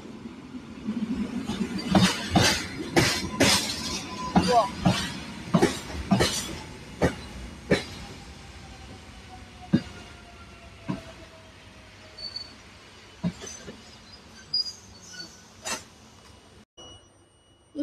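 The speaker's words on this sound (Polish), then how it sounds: "Odjeżdża nasz skład do Katowic." Rail sounds from a passenger train leaving a station bound for Katowice at a railway days event in Bohumín: a steady rumble carries a series of sharp, evenly spaced clacks that start close and then thin out and fade as the train pulls away.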